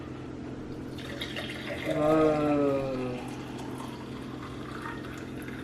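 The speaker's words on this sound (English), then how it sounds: "I'm gonna use this clear cup and pour this beautiful concoction in" Hot homemade rose water mixture poured into a clear cup, a short liquid stream gurgling and rising in pitch as the cup fills, with a brief exclaimed word from a nearby voice.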